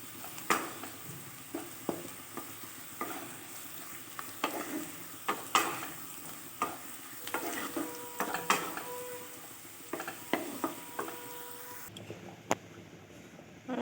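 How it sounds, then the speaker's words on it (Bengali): Three dried red chillies fry in oil with a soft background sizzle. Scattered clinks and scrapes of a spatula against the pan come at irregular intervals, fairly quiet and close, with no speech. "3টে শুকনো লঙ্কা 3টেও ভেজে নেব"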